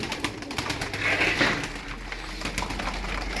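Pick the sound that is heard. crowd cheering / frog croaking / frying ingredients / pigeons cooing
pigeons cooing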